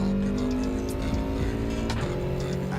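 A Subaru WRX in a racing video game, with a continuous loud engine note, shifting revs and a touch of tire squeal filling the short stretch.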